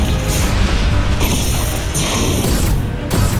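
A loud cartoon car attack blast called Dark Glow Fire roars in a continuous, dense booming crash with whooshing bursts and sparkly high shimmer layered on top.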